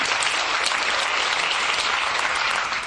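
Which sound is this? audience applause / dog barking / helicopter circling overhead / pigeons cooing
audience applause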